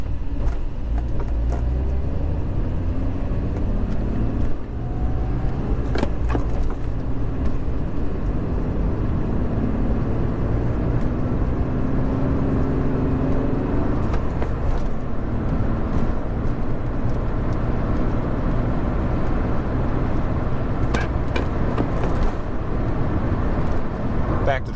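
Manual 1986 Mercedes 300E on the move, a steady low engine and road rumble with wind noise that holds constant throughout, with a few brief clicks and rattles from inside the cabin.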